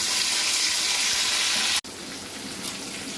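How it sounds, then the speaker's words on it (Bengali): Pointed gourd and potatoes dropped into hot oil in a pan, giving a loud, dense, continuous sizzle that cuts out for an instant, then carries on slightly softer, close and without talk. "এই পটল আলুগুলো সব ছেড়ে দিচ্ছি"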